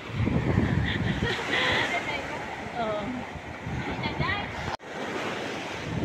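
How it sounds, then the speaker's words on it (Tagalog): Steady sea waves and surf roll on, mixed with gusty wind buffeting the microphone, with a brief dropout near the end. "So dito tayo sa gitna ng dagat."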